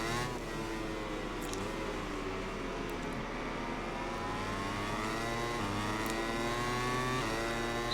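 A MotoGP 21 race bike engine in a video game at the Qatar circuit drones at high revs, its pitch rising and falling as it is forced through a corner, loud and continuous with no talk.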